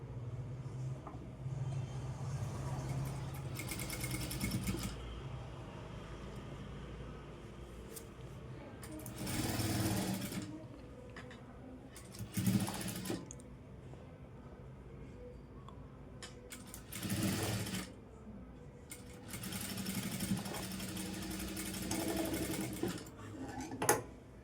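Sewing machine stitching a lining onto blouse fabric at a half-inch seam, running in several bursts of steady whirring with pauses between them, close by and moderately loud.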